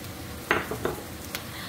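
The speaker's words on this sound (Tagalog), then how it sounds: "Pwede na natin ilagay yung ating garlic." Garlic and onions sauté in a pan with a faint, steady sizzle, broken by a few quick stirring scrapes and clinks of a utensil against the pan.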